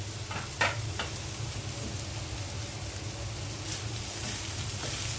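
Bitter gourd (karela) fries in a pan with a soft continuous sizzle, a few stirring scrapes and clicks breaking through near the start and end.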